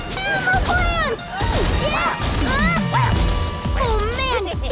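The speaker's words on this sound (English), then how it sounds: "these giant hammer plants keep smashing down really hard" Giant cartoon hammer plants slam down again and again in a children's animated show, heavy crashing thuds mixed with music, squeaky effects and excited voices talking over them.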